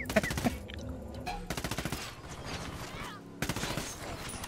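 Automatic weapons fire in Ghost Recon Wildlands, with repeated rapid bursts of rattling shots separated by short pauses, loud and close, with faint voices underneath.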